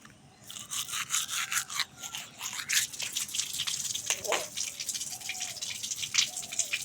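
Quick, scratchy bristle strokes of a toothbrush brushing teeth, repeating in an uneven rhythm close up, with faint dripping water.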